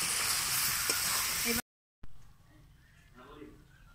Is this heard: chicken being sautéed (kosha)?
yes